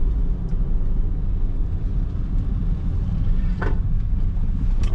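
A 2014 Perodua Alza 1.5 ZV Advanced facelift automatic on a test drive, heard from inside as a steady, smooth engine and road rumble that holds constant throughout, with no talk.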